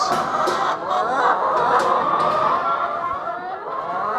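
Chickens cluck and chatter inside a farm coop in winter storm conditions, a busy overlapping flock sound at steady moderate loudness with no talk.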